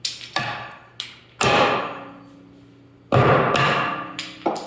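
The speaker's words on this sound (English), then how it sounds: "then you just take a hammer and smack them off when you're done" A hammer smacks clamps off a glued workpiece in sharp, loud, ringing blows, about five hits spread unevenly with decaying metallic tails between them and no talk.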